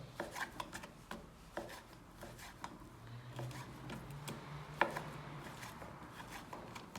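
Repeated knife chops on a cutting board as meat is cut into chickpea-sized pieces, irregular and fairly close, with a few sharper knocks among the steady cutting.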